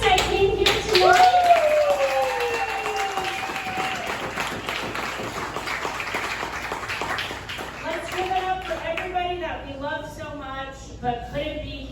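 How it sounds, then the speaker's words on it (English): A comedy show crowd in Albany, NY claps steadily for the comics, with whoops and cheers over the top, a voice talking through it, and the applause thinning toward the end. "Clap for those people we love"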